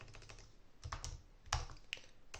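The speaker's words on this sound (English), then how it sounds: "I'm terrible at typing, as usual." Quiet clicking of keys on a computer keyboard at a desk, irregular clusters of keystrokes with brief pauses, close and alone with no talking.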